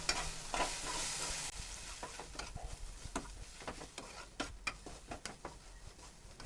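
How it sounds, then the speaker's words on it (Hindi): Ground spices such as red chilli, coriander and dry mango powder being stirred and roasted in a pan for an okra dish, with a continuous soft sizzle broken by repeated sharp scraping and tapping strokes of the spoon. "और लगातार चलाते हुए हल्का सा भून लेंगे ताकि मसाले अच्छे से भुन जाएं।"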